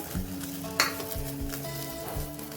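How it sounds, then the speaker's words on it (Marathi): Salted water boiling in a pot for a village-style chickpea-greens curry, giving a continuous bubbling, hissing texture with a brief clink near the start and no talking. "बघू शकता आपल्या पाण्याला उकळी फुटलेली आहे"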